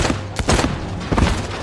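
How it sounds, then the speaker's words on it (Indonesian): Gunfire erupts in a film scene as a shooting breaks out, with a couple of sharp, loud bursts of shots crackling in quick succession. "ketika Lee menyuruh si ketua untuk menembak Dewi"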